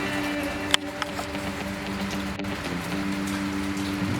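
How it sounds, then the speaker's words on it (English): Steady outdoor rain falling on a rainy day in Tennessee, a soft continuous patter with a faint humming tone underneath and a couple of small clicks, no one talking. "it's a nice rainy day here in Tennessee"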